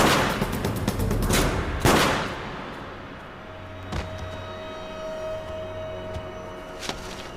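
A gunshot in a tense drama scene cracks out as a sharp, loud report, followed by another similar blast and a few fainter distant bangs over a low humming background.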